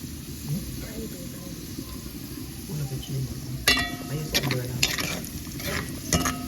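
Raisins and nuts sizzle as they toast in a hot pan for a Jamaican rice dish, a steady soft frying hiss with a few sharp clinks of utensils while someone talks over it.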